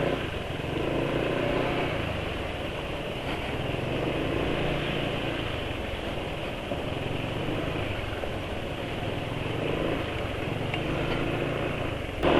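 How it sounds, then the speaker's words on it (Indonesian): A motorcycle engine with rough, worn-sounding oil idles noisily in a steady, dense mechanical drone that runs unchanged for the whole stretch, close by and without speech. "rame motor, mesinnya rame."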